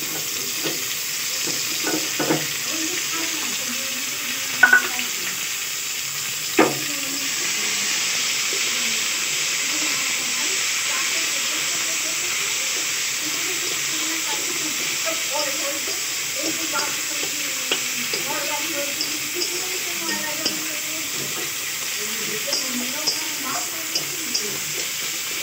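Tomatoes going into browned, sugared onions in a pan for ghugni give a steady close sizzle and hiss, broken by a few sharp clinks of a utensil against the pan.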